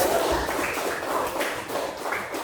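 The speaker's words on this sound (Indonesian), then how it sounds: "Tepuk tangan dulu" Students in a classroom clapping after a religious education lesson, a loose patter of hand claps filling a couple of seconds at moderate loudness, with faint shuffling and a few thumps mixed in.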